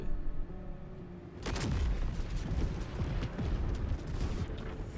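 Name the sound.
explosion in a video game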